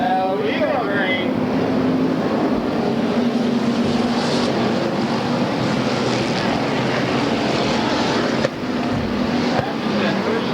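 Stock cars roar around a track at a Porterville, California point race in a steady, loud, continuous engine drone with a brief dip near the end.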